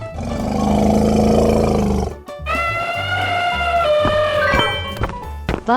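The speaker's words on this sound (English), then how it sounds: "Elephant." An elephant in a 3D animal slide video game lets out a loud, rough blast. A sustained brassy trumpeting tone follows, with scattered game effects after it.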